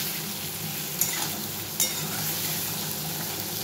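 Vegetables fry with spices in a pan, giving a constant hiss and two quick utensil clicks against the metal, with no talking.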